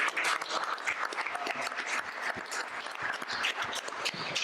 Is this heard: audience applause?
yes